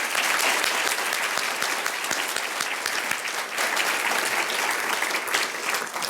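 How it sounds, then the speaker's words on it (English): A ceremony audience at a Phi Beta Kappa induction gives Dr. Darden another round of applause, heavy continuous clapping from many hands, loud and full, with a few sharper individual claps standing out from the mass. "let's give Dr. Darden another round of applause"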